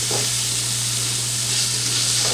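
Pesto gnocchi and beef sizzle steadily in a hot skillet while being stirred, a loud continuous frying hiss with a low hum underneath and no pauses.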